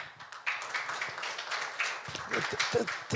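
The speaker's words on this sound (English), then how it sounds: "Another round of applause." An audience at the 2024 IASAS Global Summit session in Daegu gives a round of applause: soft, fairly distant clapping sustained for a few seconds, with no voices over it.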